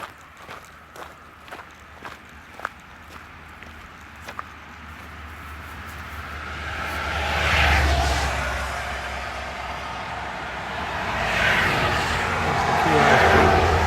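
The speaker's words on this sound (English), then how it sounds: "You hear the cars going by?" Cars passing on Route 6 beside a hiking trail in Allegheny National Forest, rising as two broad swells of tire and engine rush, the first nearer and louder, after a stretch of crunching footsteps.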